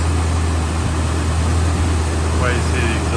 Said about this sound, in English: here's your cold start video on the 69 Chrysler Town Station wagon